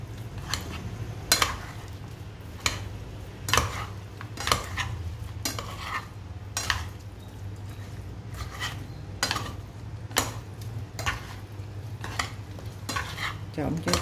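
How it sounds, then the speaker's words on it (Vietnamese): A spoon stirs and mixes beef stew ingredients with lemongrass and onion in a bowl or pot, giving repeated soft scraping strokes and occasional sharp clinks against the side, close and quiet with no talking. "Giờ mình trộn lên."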